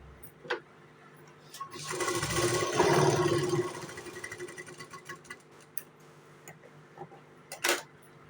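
A sewing machine stitching a folded button placket on a blouse, one steady whirring run of a few seconds in the middle, close, framed by scattered clicks and handling noises, no speech.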